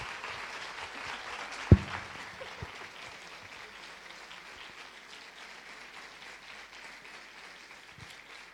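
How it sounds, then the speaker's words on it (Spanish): A conference audience claps after a panel on social media, a soft, distant and even patter of applause with one sharp knock near the start, continuing steadily throughout. "Un aplauso para ellas."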